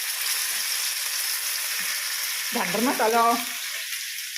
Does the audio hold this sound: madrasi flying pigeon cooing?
no